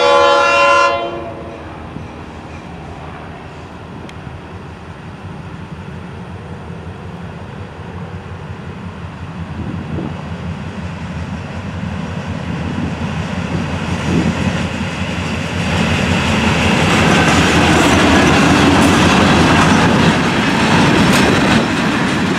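FEC 920 local freight train led by locomotive 425 sounds its horn in a loud opening blast, then rumbles past with steady clattering wheels that build louder toward the end, with no talk.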